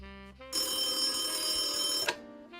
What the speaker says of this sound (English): Sunny, the phone's ringing.